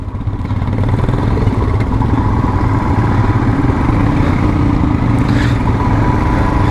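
Motorcycles on a mountain tour ride in India rolling into a roadside fuel stop, a loud, close, steady engine rumble and clatter of bikes idling and creeping in, no talk.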